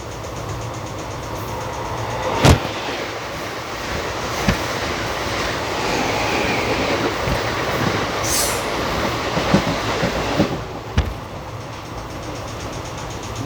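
An Indian express train hauled by a WAP-7 electric locomotive runs steadily, with a loud continuous rumble, wheel and rail noise, a few sharp clanks and a brief squeal.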